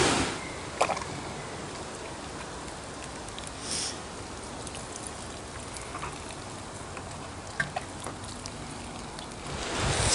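Water poured over newly planted raspberry canes in a container after chicken manure pellets are scattered on the soil, a steady soft splashing and trickling hiss with a few brief drips and clunks.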